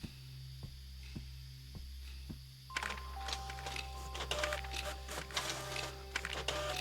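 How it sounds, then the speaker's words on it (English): A printer runs in the video game Mindlock: The Apartment: a few soft clicks give way to a busy, whirring, chattering print cycle that is fairly loud and close, with no talking. "Here have more printer noises."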